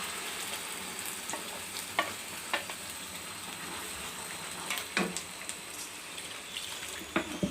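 Fennel seeds, a green chili and a sprig of curry leaves sautéing in a pan, steady loud sizzling with occasional stirring scrapes and pops, close and continuous, with no talk.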